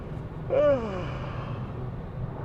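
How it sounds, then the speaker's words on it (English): A single drawn-out yawn inside an MG S5 car, a voiced sound that rises and then slides down in pitch, lasting about a second over quiet background hum. "So now I'll try yawning, and then we'll see what happens."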